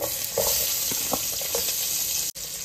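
Onions frying in oil for chicken biryani give a loud, constant sizzle with a few spatula stirs, cut by a brief drop in sound near the end.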